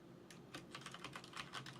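Rapid typing on a computer keyboard, a steady patter of soft close key clicks with a few louder strikes, heard alone at low level with no talk.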